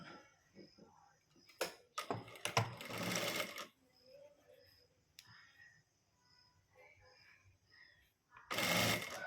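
A sewing machine stitches the lining of a blouse in short bursts, a fast buzzing whir that starts and stops several times, with quiet gaps between runs and a final burst at the end.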